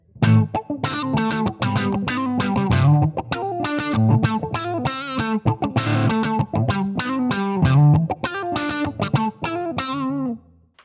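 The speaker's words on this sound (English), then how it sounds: "I'm using this Mutron style thing here called the mute wall, and it sounds like this" An electric guitar plays a funky rhythmic lick through a Mu-Tron-style envelope filter pedal, quacky and choppy with staccato notes and a wah-like sweep, loud and up close.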